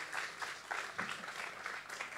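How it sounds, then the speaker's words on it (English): A quiet, somewhat distant round of clapping from the audience at a talk on food start-up innovation, scattered hand claps blending into a soft, uneven patter. "So big applause"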